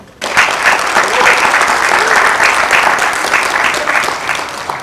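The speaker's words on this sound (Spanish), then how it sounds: "les demos un aplauso." A conference audience claps at an event on the Passion play in Iztapalapa, loud sustained applause starting abruptly and holding steady for several seconds with a few voices mixed into the crowd.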